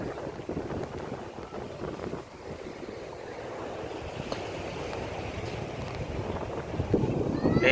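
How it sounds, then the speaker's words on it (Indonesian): Ocean waves at night below a seaside clifftop viewpoint in Gunung Kidul, Yogyakarta, heard as a steady broad wash of surf with wind buffeting the microphone, swelling louder toward the end. "Dengeran ombaknya aja nih."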